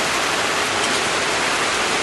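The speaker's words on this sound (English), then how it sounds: "it's raining really coming down." Heavy rain coming down hard, a dense, loud, unbroken roar of drops with no voices over it.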